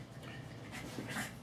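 Dogs play fighting close by, with soft whimpers, panting and scuffling breaths in a continuous, moderately quiet tussle.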